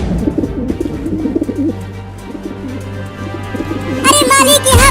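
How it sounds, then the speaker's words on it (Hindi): Cartoon pigeons coo as they flock down to eat grain, soft repeated cooing under background music, with brighter chirpy calls near the end. "वो सब कबूतर हमारे दाने को खाने के लिए नीचे उतर रहे हैं"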